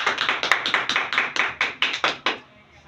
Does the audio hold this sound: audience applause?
yes